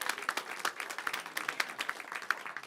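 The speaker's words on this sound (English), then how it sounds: "Let's clap for the bravest among us" Comedy-show audience applauding volunteers, a fairly quiet and brief patter of hand claps with uneven rhythm, steady through the moment.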